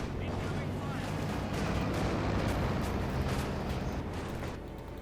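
A T-34 tank blows up in the Company of Heroes 2 strategy game, a dense rumbling burst of explosions and battle fire that sustains loudly throughout the clip.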